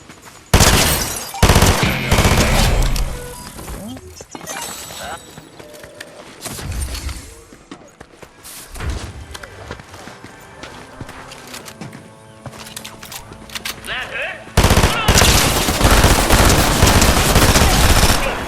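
A submachine gun in a video game fires loud, rapid bursts, heaviest at the opening and again near the end, with quieter, more scattered stretches of action in between.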